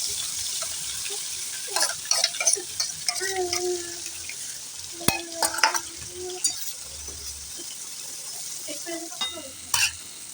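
Ground masala sizzles in hot oil for a village-style black crab curry, with a steady frying hiss under repeated scraping and stirring of a spoon against the pan, and occasional sharper clinks.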